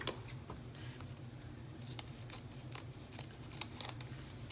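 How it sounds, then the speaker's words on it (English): Scissors cut down a book page, with close, repeated rhythmic snips and crisp paper slicing over a low steady background hum. "bring in my book page, and I'm going to have to cut it down."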